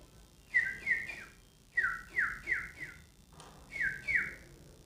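A mimicry artist whistles the call of a small bird: bright, quick chirping notes in three short bursts of two to four chirps each, close and clear against a quiet background.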